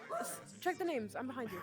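Dogs in a home whimper and yip in short, rising whines with a few barks, close by and mixed under a person's speech.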